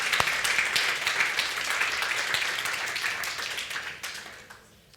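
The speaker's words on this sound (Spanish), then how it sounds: "Le puede dar un aplauso." A church congregation bursts into applause during a sermon, a dense wash of many hands clapping together that stays loud for several seconds and then tapers off toward the end.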